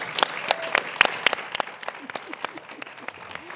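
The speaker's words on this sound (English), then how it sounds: "So a big round of applause for them." A live audience claps at an arts college event, a scattered, fairly sparse round of applause with distinct individual hand claps that thin out over a few seconds.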